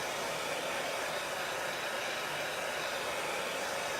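A hair dryer blows steadily at close range over a Chalk Couture transfer, a constant loud broadband whoosh with no break.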